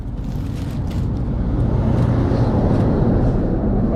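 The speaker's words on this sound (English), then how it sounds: "big truck's going by" A big truck rolls past on a road between Cooktown and Port Douglas, a steady low engine and tyre rumble that builds gradually and stays loud and close throughout.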